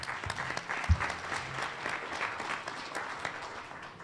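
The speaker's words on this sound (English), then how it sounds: "So please give us a round of applause thanking our sponsors" Audience at a sponsor-thanking event applauds steadily, a dense wash of many hands clapping at moderate loudness, with a brief low thump near the start and no voices over it.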